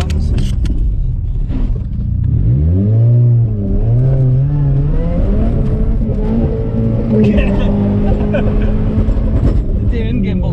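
A front-wheel-drive Ford Fusion does a burnout, its engine revving hard and rising through several surges of pitch before holding a strained high note, loud and close, with people talking and laughing over it.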